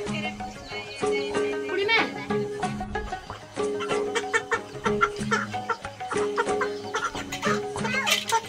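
Chickens cluck intermittently at a village chicken farm in Nepal, the calls mixed in with voices and other busy background sound throughout.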